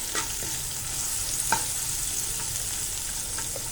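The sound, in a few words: fenugreek seeds sizzling in hot oil for kadhi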